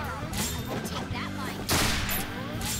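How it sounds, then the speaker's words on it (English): Explosions in the video game Resonance of Fate: dense bursts of blasts and gunfire-like crackle, with a heavy boom around the middle, continuous and fairly loud throughout. "Something exploded"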